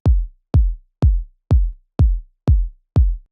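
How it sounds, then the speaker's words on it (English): Seven punchy kick drum hits in an even, steady rhythm, each a deep thump with a quick click at the attack and short decay. "I grabbed a kick."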